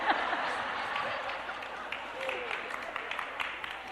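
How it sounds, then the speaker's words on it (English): Audience clapping during a talk on marriage, a moderate patter of hands mixed with crowd murmur and light laughter, some voices audible underneath. "Don't clap for her, I keep telling you."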